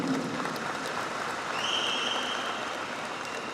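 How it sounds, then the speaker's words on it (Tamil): Audience applause at a public sports-achievement event in Chennai, a dense sustained wash of clapping from a large crowd that holds steady and fades slightly toward the end, with a brief tonal whistle partway through. "நம்முடைய பாராட்டுகளை கைத்தட்டல் மூலம் தெரிவிப்போம்"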